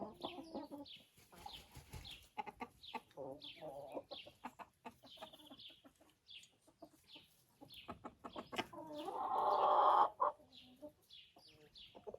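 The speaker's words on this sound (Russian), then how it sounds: "Курочка, петух и курочка араукана." Hens, a rooster and an Araucana hen cluck in soft, scattered bursts at close range, with one louder, drawn-out call near the end and no talking.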